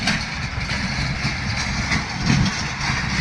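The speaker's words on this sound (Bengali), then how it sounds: "দেখো কতটা গাড়ি মেদিনীপুরে, সব 53-10। এই কেমন করে ছুটছে দেখো সব।" Several John Deere 5310 tractors run fast along a road in Medinipur, their heavy diesel engines making a steady, loud low rumble throughout, with a slight surge as one passes close.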